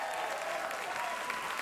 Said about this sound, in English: you're cheering and clapping